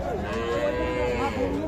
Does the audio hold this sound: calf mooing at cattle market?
yes